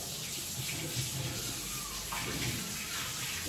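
Tap water runs in a steady, close wash as hands are rinsed at a home kitchen sink, a continuous splashing hiss with no breaks.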